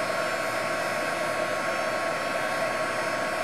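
Embossing heat tool blowing hot air to melt embossing powder on a plastic transparency, a steady, close, continuous whooshing roar like a hair dryer that stays even throughout.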